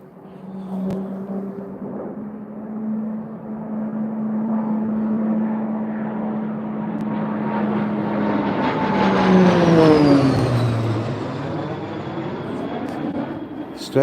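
A Texan propeller aircraft flies over the Mach Loop, its engine drone building from a distance to a loud, close pass with a falling pitch as it goes overhead, then fading away.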